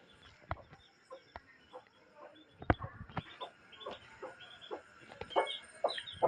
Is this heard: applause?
no